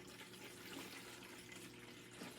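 Water running steadily from a jug to fill a garden elephant-shaped watering container outdoors, a continuous close splashing pour lasting a couple of seconds with no voices.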